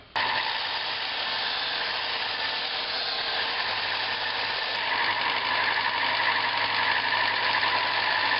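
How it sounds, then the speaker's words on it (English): A belt sander runs steadily while rounding off the end of a wooden camp table leg, a continuous abrasive roar and hum at fairly close, even volume without breaks. "I'll use the belt sander to round off the end of the leg."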